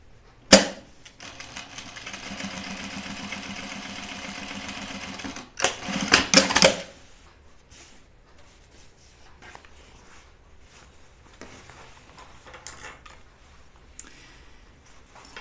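A sewing machine runs close up for about five seconds, stitching jeans with a fast, even mechanical buzz. A brief burst follows, then only quiet clicks and handling of the fabric.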